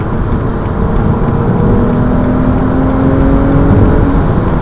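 A 2012 BMW 330i SE coupe engine drones loudly and steadily, its pitch slowly rising as it accelerates, heard from inside the car with no talking.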